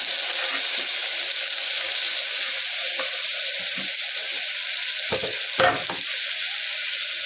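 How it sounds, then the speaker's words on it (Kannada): Tomato fries with spices in a pan for methi bath, a steady close sizzle with a few stirring scrapes near the end. "ಇದನ್ನು ಫ್ರೈ ಮಾಡ್ಕೊಳ್ಳೋಣ."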